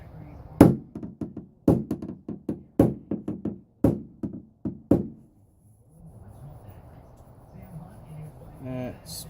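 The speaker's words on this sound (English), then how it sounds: "let me tap this down here a little bit" A hammer taps down the driver's-side quarter panel of a 2003 Cadillac CTS, giving a series of close, sharp metallic knocks in loose clusters, followed by a quieter stretch with faint background sound.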